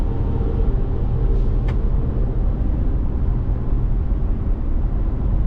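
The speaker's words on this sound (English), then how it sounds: "You're going to get some wind noise, you're going to get some road noise in this." Cabin of a 2024 Subaru Outback Wilderness at highway speed, filled with a constant low rumble of road noise and wind rush, steady and fairly loud, with no one talking.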